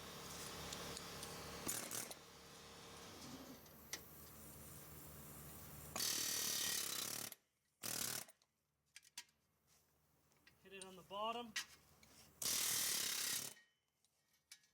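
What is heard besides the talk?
air hammer removing wheel bearing on Nissan Xterra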